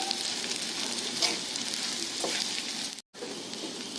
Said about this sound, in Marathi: त्यामध्ये आपण हे जे मिश्रण करून ठेवलंय साबुदाण्याचं ते घालायचं.